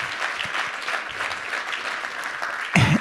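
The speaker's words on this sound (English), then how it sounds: "let's give our 11th graders a round of applause" A school assembly audience applauds its 11th graders with steady, moderate clapping that carries on evenly, and a brief louder burst comes near the end.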